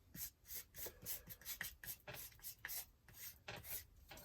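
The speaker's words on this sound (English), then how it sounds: "I just want to scrape it on." A tool scrapes medium across an art journal page in rhythmic rasping strokes, about a dozen quick repeated scrapes, close and quiet, with no voices.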